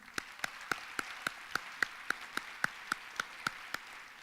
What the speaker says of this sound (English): Please give a round of applause for Dean Bob Orr